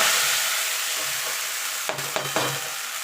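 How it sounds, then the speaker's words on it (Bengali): Chopped chickpea greens hitting hot oil already tempered with radhuni and black cumin, giving a steady bright sizzle throughout with a few sharp stirring scrapes near the end; close and fairly loud, no talking. "এবার যে শাকটা কেটে রেখেছিলাম সেটা দিয়ে দেবো"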